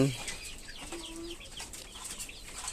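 Desi hill-breed hens on a small farm give soft, faint clucks and short calls against a quiet, noisy background, heard close but low.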